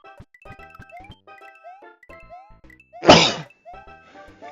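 A single loud sneeze bursts out in the middle, set against bouncy chiptune music with plinking notes from Super Mario Bros 3.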